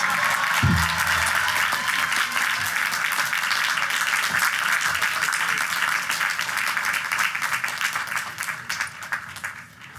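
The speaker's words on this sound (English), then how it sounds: "Another big round of applause for our Borough President." Commencement audience applauding at a college graduation ceremony, a sustained, dense wash of clapping from a large crowd that carries on for the whole stretch and slowly thins toward the end.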